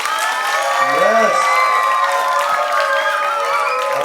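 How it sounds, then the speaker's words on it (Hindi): Audience and children applaud and cheer at a certificate presentation during a summer-vacation cultural programme, with a steady wash of clapping, shouts and whoops and a voice calling out over the crowd. "थोड़ा साउंड करें तालियों की।"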